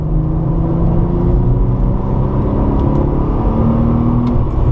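Porsche 997 Targa 4S on a race circuit, a loud close engine drone climbing steadily in pitch as the car accelerates, with rumbling road and wind noise underneath.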